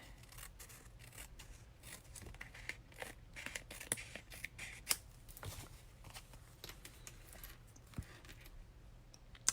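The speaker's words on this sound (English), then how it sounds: "I also see that this is a little bigger, so I'm going to trim this." Paper for a stamping craft is trimmed with scissors in quiet, faint snips and rustles spread across the clip, with soft handling sounds and no talk.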